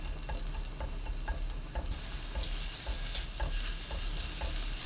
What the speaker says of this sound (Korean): 팬에 올리브유 1큰술, 다진 마늘 1큰술 넣고 센 불로 볶습니다.